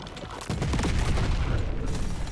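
Minigun fire in the video game Deep Rock Galactic: Survivor, a dense and continuous roar of rapid shots that kicks in after a brief pause and keeps going without a break.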